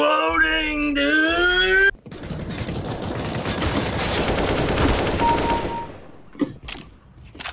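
Automatic rifle fire in the video game CS:GO sprays in a rapid burst of shots for about four seconds. Brief voices are heard before and after the burst.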